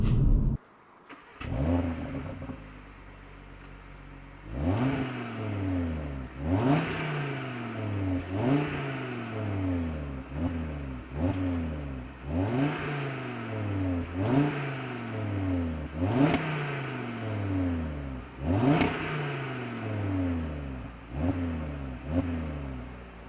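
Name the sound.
Audi RS 3 8Y engine revving, exhaust sound check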